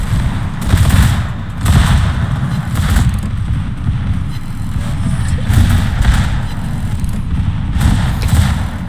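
A warship's secondary guns fire repeatedly in World of Warships, a steady barrage of heavy thumps and booms, loud and dense, with low rumbling between the shots.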